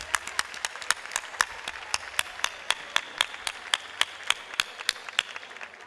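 An audience at the Premios Gorka 2019 award ceremony claps in a steady, rhythmic beat. The sharp, regular hand claps sound moderately distant and continue throughout without talk.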